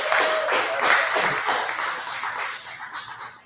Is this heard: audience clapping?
yes